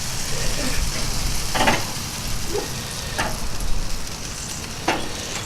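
BBQ chicken sizzles steadily on a Weber Summit charcoal grill as pieces are flipped, with a constant crackling hiss and a few sharp scraping taps from the turning, close and moderately loud.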